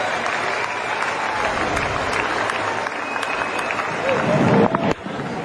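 A cricket crowd at Wellington Stadium during Pakistan versus New Zealand claps and cheers in a broad, steady roar under a commentator's voice, swelling briefly near the end.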